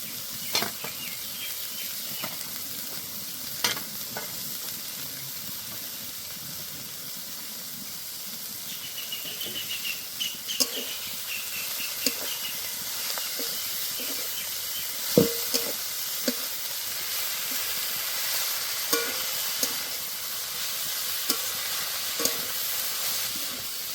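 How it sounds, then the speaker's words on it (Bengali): Kalai greens and fried spices sauté in a pan for a rohu fish-head ghonto, with a steady close sizzle and occasional scrapes and knocks of a stirring spoon throughout. "শাকের সঙ্গে সঙ্গে একটু ভাজা হবে"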